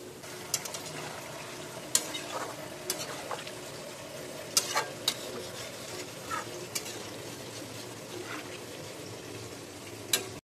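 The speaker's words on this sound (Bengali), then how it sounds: "তারপর এটা 1 মিনিট মতো একটু হালকা হাতে ভালো করে নাড়াচাড়া করে নিয়ে দিয়ে দেবো অল্প একটু জল" Fried prawns and pointed gourd stirred in a pan with a little water: a steady low sizzle, with sharp clinks of the spoon against the pan scattered over it.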